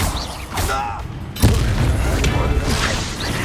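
A sudden blast from the Exploso spell in the Hogwarts Legacy video game, a sharp boom that erupts mid-battle amid other spell and combat noise, fairly loud and close.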